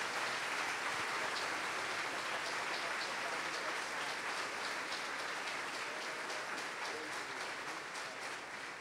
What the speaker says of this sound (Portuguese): vamos receber aplaudindo o Senhor Jesus